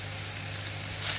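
Ground beef frying in a pan as its cooking juices boil off, a steady close hiss and crackle of sizzling fat, brief and without voices.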